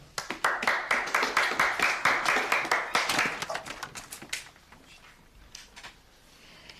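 A school class claps for its first-place winner, with a crisp burst of rhythmic close-up handclaps that thins out and fades into scattered claps and quiet room noise.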